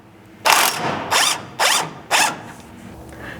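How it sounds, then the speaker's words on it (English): A ratchet wrench with a 14 mm socket loosens the rear fuel tank strap bolt on a 4th gen Toyota Tacoma, giving four loud, close clicking bursts in an even rhythm with short pauses between them. "you can loosen the bolt for this rear fuel tank mounting strap with a 14 mil socket"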